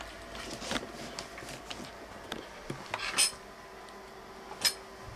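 Metal parts of a Mauser rifle clink and tap quietly while being reassembled after cleaning, a few light scattered clicks and one brighter metallic ping against a faint background.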